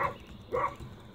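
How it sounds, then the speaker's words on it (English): A dog in a video game, played on a 900MHz Compaq Armada E500 laptop, barks three times at even intervals, each bark short, muffled and mid-loud over a faint background hum. "And that dog keeps barking."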